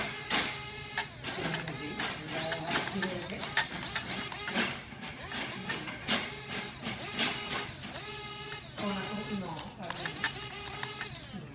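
An RC car spinning donuts, its electric motor giving repeated high, buzzing whines that rise and fall in short bursts, close by, with someone talking over it.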